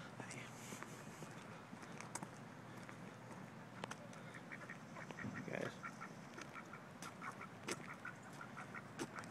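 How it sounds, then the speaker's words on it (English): Ducks quacking outdoors in short scattered calls at moderate distance, with a person talking quietly over them. "Going to pretend that that means hi to Alan in duck"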